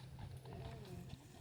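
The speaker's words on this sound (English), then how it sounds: "I hear the horses." Horse hooves clip-clop slowly past RVs at an equestrian campground, faint and a little distant under a low steady hum, with a voice speaking.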